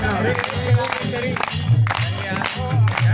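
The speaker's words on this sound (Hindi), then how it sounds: "तालियां बजाकर कहना" Audience clapping along during a devotional bhajan, rhythmic crowd applause mixed with loud singing and music, close and continuous throughout.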